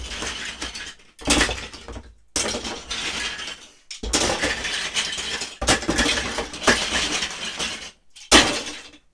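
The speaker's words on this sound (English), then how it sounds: "So then I will basically fill this with Duplo" Plastic Duplo bricks poured into a cardboard box for packing, several loud clattering rattling bursts separated by short silent pauses.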